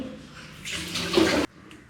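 Water runs briefly from a tap over hands being wetted while preparing a homemade Kerala-style fried mixture snack, a steady splashing rush that builds for about a second and stops abruptly, close and fairly loud.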